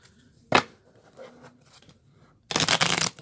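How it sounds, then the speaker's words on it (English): Two quick bursts of shuffling a deck of tarot-style reading cards, a short riffle followed by a longer, louder one, with faint handling noises between them. "So we'll just give all these cards a little shuffle here."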